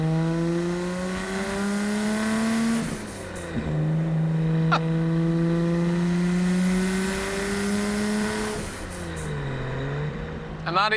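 A Nissan Skyline GT-R R34 engine revs in long, rising and falling tones, loud and close, with smooth sustained pitch shifts and brief dips between pulls.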